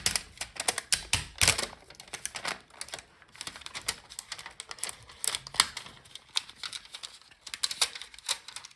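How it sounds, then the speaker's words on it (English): Plastic keyboard cover being pried off an Aorus 15G laptop during a teardown: a close, irregular run of sharp clicks, snaps and tapping bursts, with brief pauses between clusters and no talking. "We have to take off this cover from the keyboard."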